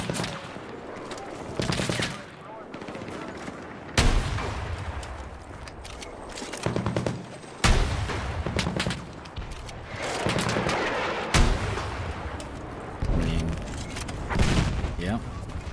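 Gunfire in the Battlefield 6 video game, with repeated loud bursts and sharp single shots, close and punchy, over a roughly sixteen-second stretch while someone talks.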